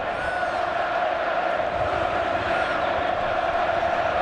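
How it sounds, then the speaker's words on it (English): A large crowd of football fans roars and cheers continuously in the Vicente Calderon stadium during an Atletico de Madrid match. The dense wash of voices is steady and fills the whole stand, with no single voice standing out. "Simeone applauding the fans, who in turn are cheering him"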